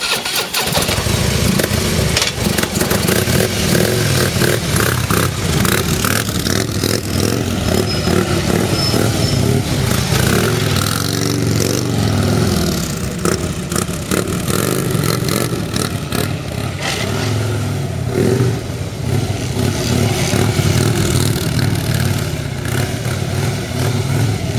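A motorcycle engine roars loudly and continuously, revving up and down as it rides close by, with no talking.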